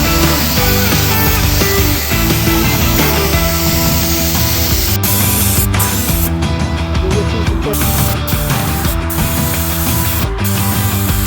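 Close, loud hiss of a spray gun laying orange paint over the body of a 1973 Volkswagen Bus, one continuous spray with brief breaks where the trigger releases, no talking.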